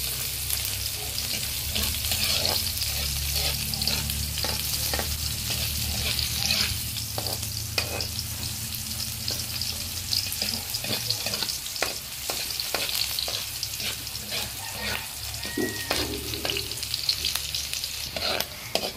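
Onions sizzling and frying in a pan for a misua dish with malunggay, a steady loud hiss with frequent clicks and scrapes of stirring, close up and without voices.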